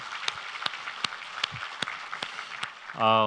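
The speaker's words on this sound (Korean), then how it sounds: "우리 하나님께 감사와 영광의 박수를 드리겠습니다." A church congregation claps in thanks during a Sunday worship service, scattered sharp claps with a soft background, and a brief sustained tone at the very end.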